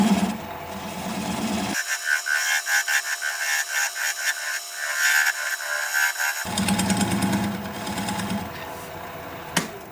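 A wood lathe spins while a swept back bowl gouge cuts a small turning, a steady close motor whine with tonal harmonics and gritty cutting chatter, briefly dropping in the low end midway.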